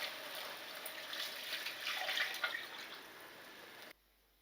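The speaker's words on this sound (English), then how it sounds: "now I'm going to add some water" Water pours steadily into a pot for Filipino pancit lomi chicken noodle soup, a continuous close splashing stream lasting several seconds before stopping abruptly.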